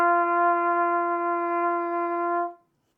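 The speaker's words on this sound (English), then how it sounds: "Bring the trumpet right to your mouth, just like we had with our M. Set your embouchure. Don't press down any valves, and you should make this sound right here," A trumpet sounds a single sustained open G with no valves pressed, a clean steady tone held for about two and a half seconds before stopping cleanly, alone and close.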